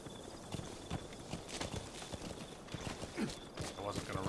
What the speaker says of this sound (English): I wasn't gonna ride D-Horse right up into the enemies.